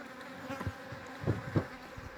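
Steady droning buzz of many honeybees around hives in a highland pasture, with a few louder bees passing close by.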